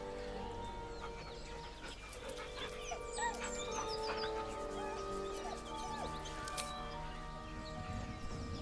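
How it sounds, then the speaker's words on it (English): A dog in Baldur's Gate 3 whimpers nervously, soft whines and panting breaths rising over a quiet game ambience with thin high tones drifting behind. "The dog whimpers nervously"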